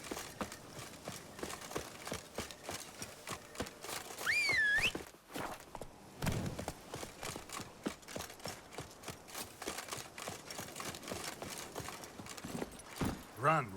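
Roach, a horse in Witcher 3, galloping with a steady rhythmic clip-clop of hooves throughout, close and continuous, while someone talks over it.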